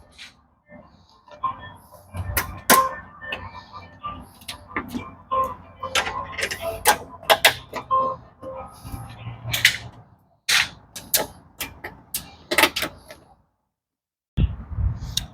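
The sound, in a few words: prying plastic rivet clips off with flathead screwdriver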